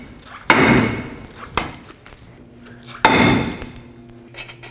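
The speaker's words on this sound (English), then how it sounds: "put on the lug nut and then hammer it so that I can have it pop free" Hammer blows knocking a stuck front brake rotor loose on a 1997-2003 Ford F-150, with a lug nut threaded on to hold it. Two hard metallic bangs land about two and a half seconds apart, each ringing briefly, with a lighter knock between them.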